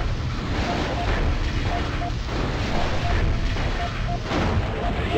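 Incoming weapons fire in the mech combat game MechCommander, a continuous loud rumble of blasts and explosions with steady booming throughout.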